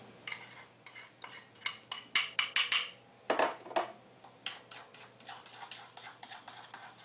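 A utensil clinks and scrapes against a bowl as sugar is stirred into egg yolks, a quiet irregular run of sharp taps and scrapes with brief pauses.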